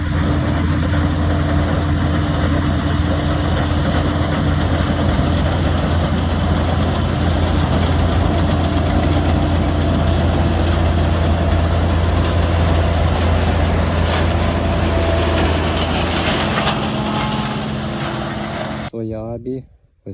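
A tractor pulls a Lemken plough with skimmers through soybean stubble while ploughing for wheat, its engine a steady, loud, close drone that runs on without a break and then cuts out near the end.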